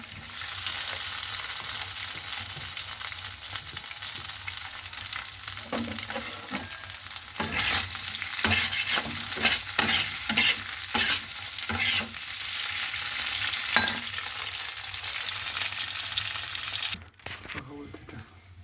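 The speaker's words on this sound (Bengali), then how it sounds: "একটু শুকনো লঙ্কা ফোড়ন দিলাম একটু তেল" Dry red chillies crackling in hot oil as a tempering for a tangy spiced potato and paneer dish: continuous sizzle with repeated stirring scrapes and clinks, close by, ending abruptly near the end.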